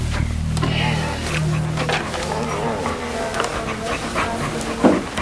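A dog pants in quick breaths with a few soft whimpers, close and fairly loud, mixed with other busy background sound and voice-like tones.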